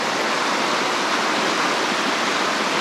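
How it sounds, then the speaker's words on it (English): Rushing water roars steadily and continuously, a broad, even hiss of the river flowing over rapids at Hillsborough River State Park, close and loud with no voices. "You can see the rapids here. Listen to the flowing water."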